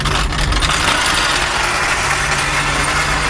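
A race car engine idles with a steady, rough mid-range rumble and slight vibration, close and continuous, no talk.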